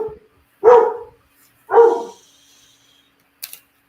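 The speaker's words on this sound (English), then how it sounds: "Sorry, dog barking." Two loud, separate barks from a dog nearby, spaced about a second apart, followed by a faint short click, with no talking.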